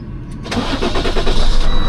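A Freightliner truck engine cranks briefly and catches, settling into a loud, close, rough idle with a deep steady rumble.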